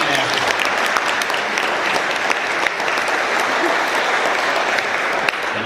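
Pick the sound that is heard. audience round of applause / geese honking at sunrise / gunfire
audience round of applause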